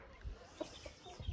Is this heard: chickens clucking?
yes